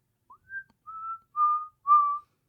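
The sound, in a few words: person whistling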